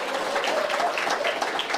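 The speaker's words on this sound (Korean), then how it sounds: "큰 박수 다시 한번 부탁드리겠습니다." Audience applause at a talk concert on a Busan independence movement memorial hall, a steady, dense wash of clapping holding at even loudness for the whole short stretch with no voices over it.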